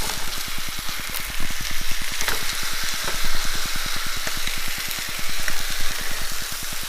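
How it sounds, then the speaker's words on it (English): Pork chops frying in a pan, a steady hissing sizzle with a fast, even crackle of popping fat running throughout, close and moderately loud with no talk. "I'm going to flip my pork chops here again."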